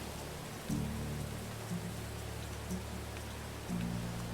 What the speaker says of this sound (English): And notice it's raining again